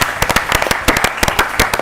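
A quiz audience claps for a school team finishing a competition, sharp irregular hand claps ringing out loudly and close for about two seconds, with no talk over them.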